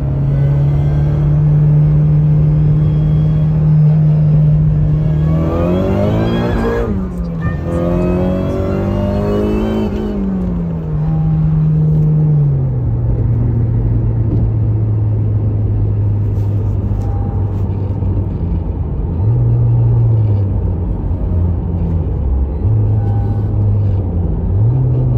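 A tuned car with a DW400c fuel pump does a full-throttle pull, its engine droning loud and close, then climbing in a sharp rising rev. It falls back to a steady idle, with brief blips later on.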